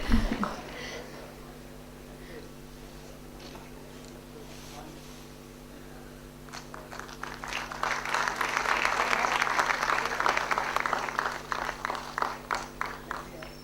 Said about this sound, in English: Yes, applause is in order.